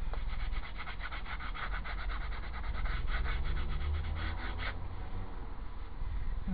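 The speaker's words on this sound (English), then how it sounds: "I'm just going to gently rough up the wood here because this veneer has become quite smooth" A hand roughs up a smooth wood veneer surface for a marquetry phone case, giving a steady close scratchy rubbing, like light sanding, that runs continuously throughout.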